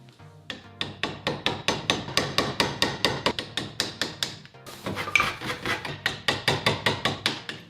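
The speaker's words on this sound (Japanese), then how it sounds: "このスクレーパー、後ろを叩いて使うことができるので、ハンマーで叩きながら削っていきます。" Steady run of sharp hammer blows on the back of a scraper working a boat surface, regular taps about every third of a second with a brief pause midway, close and clear with no talk.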